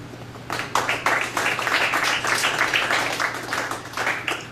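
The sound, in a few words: audience clapping after a poem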